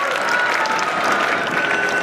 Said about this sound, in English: give him a round of applause, because he's a really lovely guy